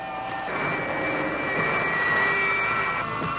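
Jet engine thrust building in a space attack video game, a steady loud roaring drone with a rising high whine layered on top, sustained without a break and with no speech.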